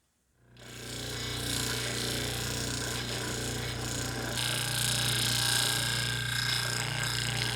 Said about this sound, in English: I'm going to use this disc sander here, try to shape it a little bit